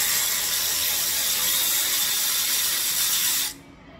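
A ratchet wrench turns a transmission pan bolt with a fast, continuous clicking that stays loud and close for three and a half seconds, then stops abruptly.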